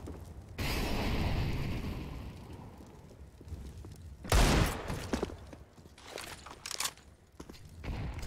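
Counter-Strike match audio: a long burst of rapid gunfire, then a sharp grenade explosion midway, followed by scattered shots and footsteps in the game.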